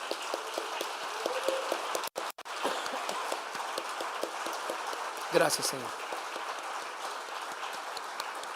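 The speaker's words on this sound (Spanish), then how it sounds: "Dale un aplauso fuerte al Señor" Loud congregational clapping in a church service, a dense, continuous patter of many hands under a voice speaking, with a brief dropout and a short louder burst partway through.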